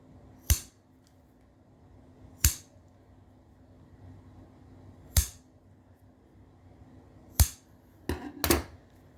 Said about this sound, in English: I will trim my wicks